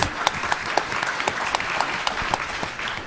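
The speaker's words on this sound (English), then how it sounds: "Give him a round of applause for being very brave." Steady audience applause at a comic convention panel, a dense patter of many hands clapping throughout, fairly close and even in loudness.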